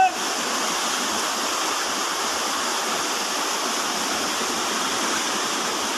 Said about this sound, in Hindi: मां शाकंभरी देवी नदी में भयंकर पानी आता हुआ।